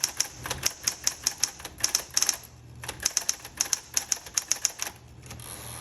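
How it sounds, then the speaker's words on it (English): Typing on a Smith Corona Coronet Coronomatic typewriter: a steady run of sharp, close key strikes in quick irregular bursts, with a short pause midway, loud and alone without talk. "go ahead and type some sentences"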